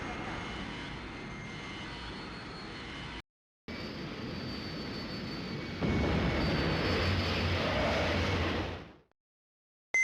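A shuttle takes off in the video game Space Griffon VF-1, a steady loud engine roar that briefly cuts out, then swells louder before fading to silence.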